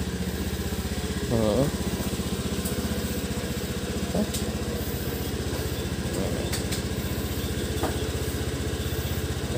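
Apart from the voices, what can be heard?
motorcycle engine warming up, idling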